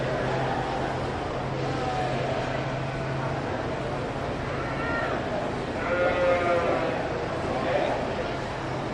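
Lambs bleating at a county fair sheep show in Dodge County, a few wavering calls in the second half over steady hall murmur and background hum, with voices talking nearby.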